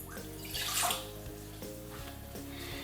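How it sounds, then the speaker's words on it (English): Water is poured into a bowl for pizza dough from a tap, giving a brief gushing splash that settles into a softer running trickle, close and fairly quiet. "you will need to add the water"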